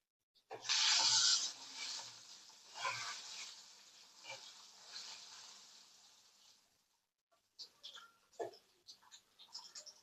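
Dry red chilies sizzle in hot oil with mustard seeds and urad dal, a loud hissing burst that settles into a steady crackle and then fades, followed by a few scattered pops and stirring sounds, with no one talking.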